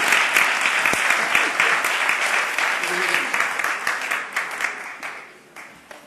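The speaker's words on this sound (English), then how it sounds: "Let's give a nice round of applause to our author, our entrepreneur, Jean." An audience at a Brooklyn Black History Month celebration gives a lively round of applause for an honoree. The clapping is loud and dense at first, then thins into scattered claps that fade away.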